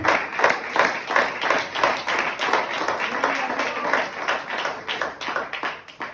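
A church congregation clapping during a Spanish-language sermon, rhythmic rapid claps from many hands, fairly loud and close, pulsing steadily throughout without speech.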